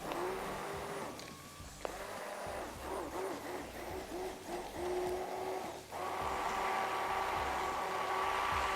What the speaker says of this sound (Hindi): ये देखिए ना, हैंड ब्लेंड किया